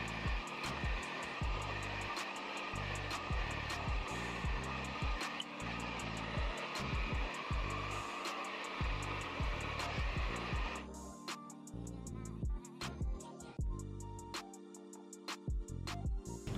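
A hair dryer blows steadily while drying a 30-inch Brazilian straight hair wig, a loud continuous whooshing that drops in intensity partway through, with faint clicks and handling noises over it.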